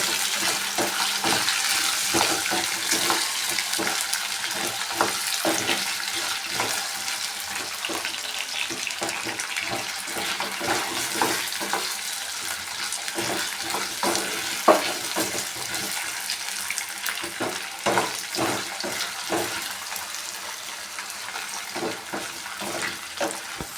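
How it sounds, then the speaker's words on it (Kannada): Potatoes frying in oil over a medium flame, a dense continuous bubbling hiss with frequent crackling pops throughout. "ಗೋಲ್ಡನ್ ಕಲರ್ ಬರೋವರೆಗೂ ಫ್ರೈ ಮಾಡ್ಕೊಳ್ಳೋಣ ಮೀಡಿಯಮ್ ಉರಿಲೇನೆ"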